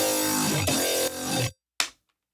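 Heavily distorted synth bass with post processing on the low end, from an electronic dance track, a dense buzzing sustained tone that cuts out abruptly, followed by one short loud stab that decays quickly.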